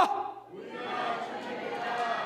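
A church congregation at a New Year special revival meeting raises a brief collective shout of hallelujah, a loud burst of many voices that quickly swells and then holds as a mass roar.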